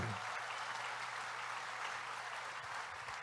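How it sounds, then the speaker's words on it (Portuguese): A church congregation claps in sustained, dense applause during a service, celebrating a couple's wedding anniversary. The clapping is steady and fills the whole stretch. "e vocês vão dar uma salva de palmas"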